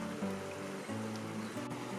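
Becky Brook, a short stream on Dartmoor's Trendlebere Down, flows over rocks with a soft, steady rushing murmur, faint and distant under a low background hum, with no talking.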